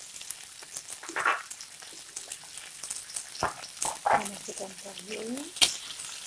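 Tofu hitting a hot pan with oil for a squid and tofu tauco dish, giving a soft crackling sizzle with scattered pops and a few clinks, under a voice speaking.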